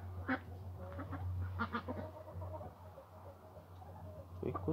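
Muscovy ducklings on a small farm give short, soft peeping and quacking calls in scattered bursts over a low, steady hum, heard close but quiet.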